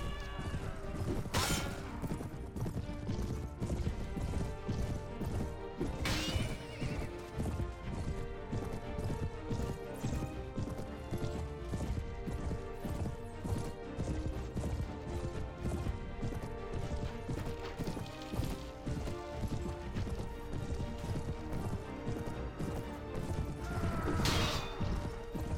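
Horse galloping in the video game Mount & Blade Warband, a steady run of hoof clip-clops under dense battle noise with clashes and crashes throughout, loud and continuous.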